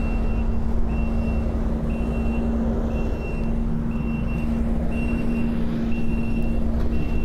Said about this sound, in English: Alright, watch out for traffic.